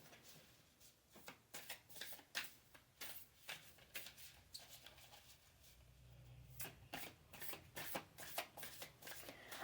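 Spirit Oracle cards are shuffled close by in repeated quick riffling bursts, crisp and rapid, with a short pause midway before the shuffling resumes.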